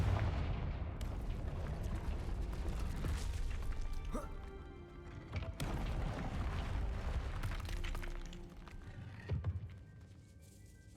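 Confringo blast spells in the Hogwarts Legacy video game go off in a run of sharp explosive cracks and thuds, repeated several times over a busy combat soundscape, moderately loud with some faint game voices mixed in.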